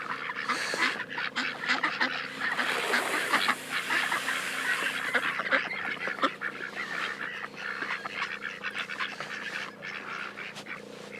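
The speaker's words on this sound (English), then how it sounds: "There's 10 ducks. These are our ducks." A flock of about ten ducks on a homestead pond quacking and honking, with loud, busy overlapping calls that run continuously and sound close to the microphone, and no voices.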